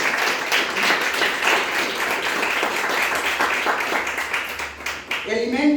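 Audience applause at a product presentation event, a dense steady wash of many hands clapping close and loud throughout, with a brief stronger burst near the end.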